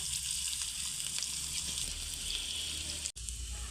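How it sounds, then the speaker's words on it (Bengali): Garlic cloves, eight to ten of them, lightly frying in mustard oil with a dried red chilli for a kul-begun chutney; a steady, close hiss of sizzling oil runs throughout with a brief dropout near the end. "রসুনগুলোকে হালকা করে ভেজে নেব"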